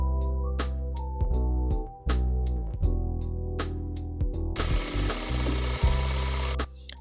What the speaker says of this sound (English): we're going to sew at the bottom of the skirt a straight stitch